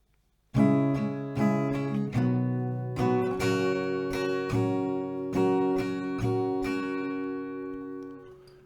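An acoustic guitar strums the chords of a song in a steady down-up rhythm, bright and ringing, each stroke clear and close, played alone without any voice.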